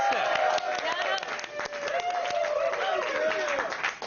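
Studio audience applause and clapping, a dense, steady patter of many hands filling the whole stretch, with people talking over it.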